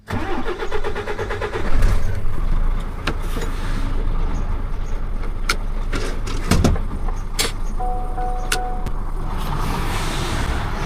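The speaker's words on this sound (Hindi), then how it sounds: "अब एक्सीलेटर छोड़ा है, गाड़ी स्टार्ट ही खड़ी रहे" A truck engine idles nearby in a French village, a steady low diesel rumble with a short rev near the start and scattered clicks and knocks over it, without talk.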